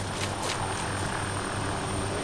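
A helicopter in the Arma 2 video game gives a loud, steady rotor and engine drone with faint rhythmic blade thumps, close and continuous, with no talk.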